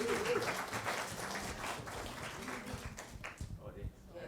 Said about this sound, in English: So give a round of applause to all those who organize these events.